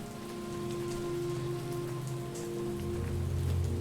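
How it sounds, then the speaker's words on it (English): Steady, dense rain pattering on a surface, continuous and fairly loud throughout, with a low hum underneath and no voices. "The rain sound effects are very good."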